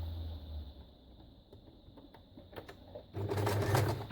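A sewing machine stitches free motion over small fabric scraps, quiet ticking at first, then the motor kicks into a louder steady whirring burst near the end, close by.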